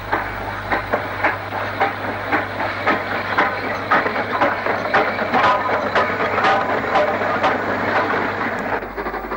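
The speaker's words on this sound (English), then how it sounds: "A WD-280 runs light engine towards the city" A WD steam locomotive runs light engine toward Birmingham in the 1960s, with regular chuffing exhaust beats and a mechanical clank under a steady rumble, fairly close and even in loudness.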